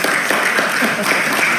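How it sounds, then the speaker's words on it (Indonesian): Applause from an audience at an Indonesian parliamentary commission session, a steady dense patter of clapping that fills the whole short stretch at close, even loudness. "Tepuk tangan lagi dong."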